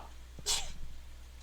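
A single quick sneeze bursts out sharply near the start amid a quiet room hum, followed by a faint breathy trail, with no talk around it.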